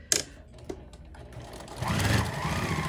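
Sewing machine stitching a quilt block, a few faint clicks and handling taps before a short burst of close, steady motor whir with rapid needle rhythm in the final second.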